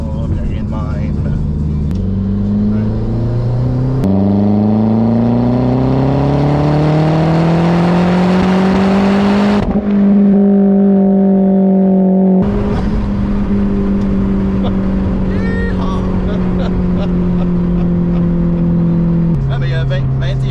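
A turbocharged 2008 Mazdaspeed 3 running 21 psi of boost revs up and holds, its loud engine note climbing and settling through several rises and drops, heard close up while someone talks over it.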